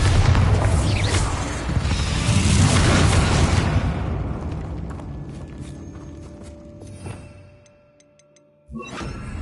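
A Bombarda blasting spell in Hogwarts Legacy detonates in a heavy, rumbling explosion that rolls on for several seconds and fades into quiet, with footsteps and small clatters following.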